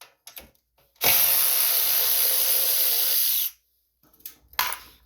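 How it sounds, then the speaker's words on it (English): A power tool spins 10mm bolts off a Craftsman snowblower in one loud, steady burst of about two and a half seconds, with brief clicks and clatter before and after. "They're 10mm socket. Go ahead and take them all the way off."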